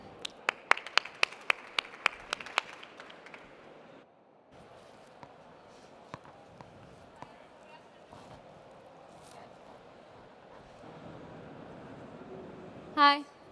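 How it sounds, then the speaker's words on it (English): An audience at an industry conference welcome session gives a short burst of applause, with sharp claps that thin out after a few seconds into a quiet room with scattered sounds. "A round of applause for Maite Carracedo."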